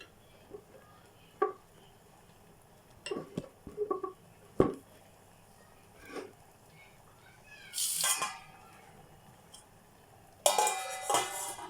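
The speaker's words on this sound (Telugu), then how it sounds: "అలా నేనైతే ఇప్పుడు మూత పెట్టాను గైస్" A lid set onto a cooking pot of potatoes and eggs: several close metallic clinks and clatters scattered through the clip, with a brighter scraping rattle near the end, without speech.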